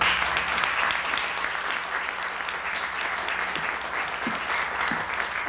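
Steady audience applause fills a lecture hall as people welcome lecturer Dr. Nina Colwill to the podium, a dense, even clapping that holds at the same level throughout with no break.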